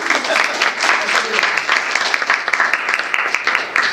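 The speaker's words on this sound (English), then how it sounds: "You can give them a round of applause." A lecture audience gives a round of applause for the panel, a steady, dense wash of clapping that lasts for the whole stretch and stays fairly close.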